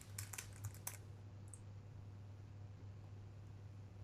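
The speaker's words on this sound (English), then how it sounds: "we only have to type git push" Quick burst of computer keyboard keystrokes typing a git push command, clicks clustered in the first second, then quiet room tone with a steady low hum.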